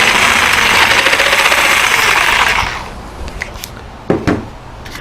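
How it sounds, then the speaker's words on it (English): A jigsaw cuts through crown molding, a loud buzzing, rattling blade stroke that runs steadily for over two seconds, then stops, followed by a few light clicks and knocks. "I want to turn the jigsaw and come on out the back side"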